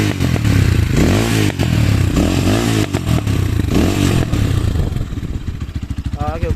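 Stock exhaust of a Motorhead Scrambler 250 motorcycle idling rough with irregular misfire pops and chugs, loud and close, partly under someone talking.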